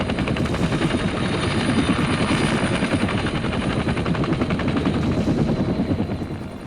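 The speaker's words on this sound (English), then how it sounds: "The helicopter provided unprecedented mobility for our troops." A military helicopter flies close by, its rotor thumping in a loud, steady rapid chop that fills the whole stretch without pause.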